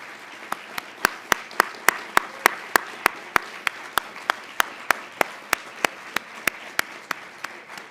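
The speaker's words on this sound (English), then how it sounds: "You deserve a good round of applause" A single pair of hands claps close by in a slow, even rhythm at a symposium closing, about two dozen sharp, distinct claps spaced roughly a third of a second apart over a quiet room.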